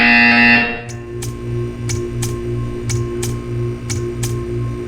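A Portal 2 buzzer sounds as a loud tone at the start, followed by a regular pulsing electronic hum with sharp rhythmic ticks repeating at roughly half-second intervals.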